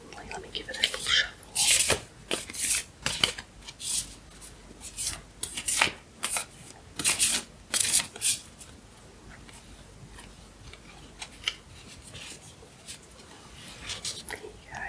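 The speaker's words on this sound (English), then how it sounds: "Let me give it a little shuffle." A deck of oracle cards is shuffled with quick papery riffles and rustles, close up, in soft bursts over a quiet room while a person whispers now and then.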